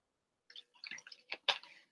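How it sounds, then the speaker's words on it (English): Someone drinking water during a lecture, with soft faint pouring and sipping sounds, small splashes and gulps in a quiet room. "I shall drink some water"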